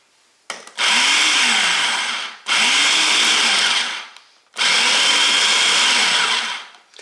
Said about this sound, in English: I'm going to pulse the machine a few times just to break up the butter and to combine the ingredients